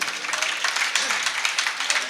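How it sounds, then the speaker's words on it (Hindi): A seated assembly at a Hindi sermon breaks into brisk, fairly close applause, a short dense burst of hand clapping with slight rises and dips. "एक श्लोक याद किया, पूरी सभा ने ताली बजाई"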